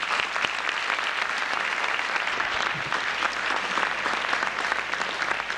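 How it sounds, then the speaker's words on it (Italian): Audience at the 2000 Friulian song festival in Udine applauding after a performance, a continuous, even roar of clapping from a large crowd in an auditorium, sustained and fairly loud. "con un nuovo applauso passiamo la linea alla pubblicità"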